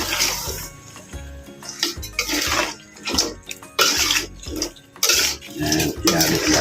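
A spoon clatters and scrapes inside a cooking pot while stirring ginataang kalabasa, a squash stew in coconut milk, in irregular knocks and wet sloshing bursts, close and fairly loud.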